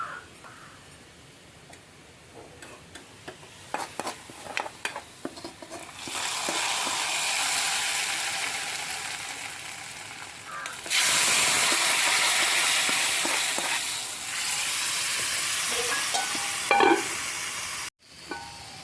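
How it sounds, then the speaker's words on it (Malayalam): Hot tempering poured into a Kerala curry of ponthan kaya (raw plantain) and fish, giving a loud, sustained sizzle and hiss in two strong bursts, with scattered stirring clinks before and between. "ഇനി നമുക്കത് കറിയിലേക്ക് ഒഴിച്ചു കൊടുക്കാം"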